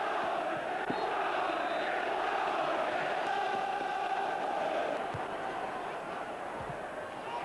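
A full house of 35,000 football fans at Hillsborough for a League Cup semi-final roars steadily, a dense, continuous stadium crowd noise with no clear breaks.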